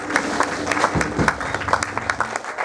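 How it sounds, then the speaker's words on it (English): A crowd at a beat poetry festival in Portland, Oregon applauds, a dense patter of clapping lasting a few seconds and fairly close. "Give her a round of applause."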